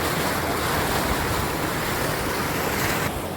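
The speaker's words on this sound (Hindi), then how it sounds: "यहाँ से बहुत ज़्यादा मकदार में पानी निकल रहा है।" A large volume of water gushes out from beneath a tunnel into a flowing stream, a loud, close, continuous roar with wind buffeting the microphone throughout.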